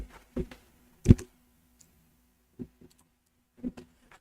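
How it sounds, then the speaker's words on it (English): An elbow presses computer keyboard keys, making a few sparse, close clicks and soft clacks spread out with silent gaps between them. "Because I will be having my darn elbow on the darn keyboard."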